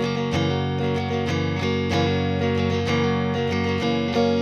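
Electric guitar strums chords with a clean, steady sustain and no pulsing, the strokes ringing out loud and close; no one speaks.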